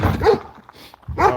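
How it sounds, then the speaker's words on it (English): A dog barks outdoors in two loud, close bursts with a short gap between, each bark harsh and voiced, with no talking over it. "that motherfucking dog, I tell you what. For no motherfucking reason. Barking at everything."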